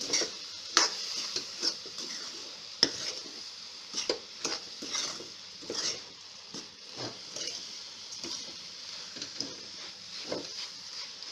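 Lachha semai being stirred in a pan, producing a quick run of light scraping ticks and clicks from the spoon over a steady faint hiss, close by.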